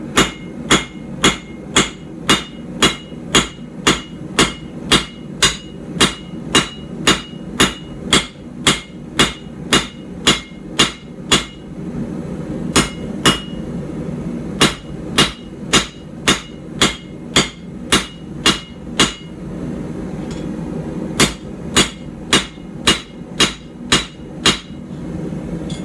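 Hot steel is hammered flat on an anvil while forging a puukko knife, with steady loud ringing blows in a regular rhythm, a short pause, then more strikes over a low background hum.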